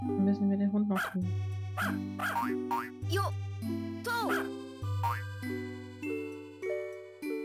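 Cartoonish barks from a dog in the Harvest Moon video game mix with bouncy, jingly game music: a series of short, punchy yaps over synthesized melody notes, loud and repeated throughout.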